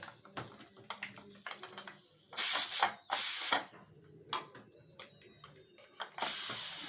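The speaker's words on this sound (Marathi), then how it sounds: "थोडीशी वाफ राहिलेली ती मी काढून घेतली" Leftover steam vents from a pressure cooker of dal and peanuts after two whistles, heard as several short, sharp hissing bursts separated by small metallic clicks and clatter from handling the lid.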